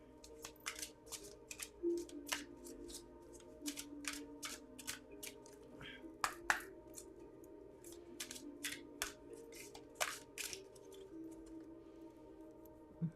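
Tarot cards shuffled by hand, a steady run of soft crisp flicks and snaps, close but quiet, continuing without talk.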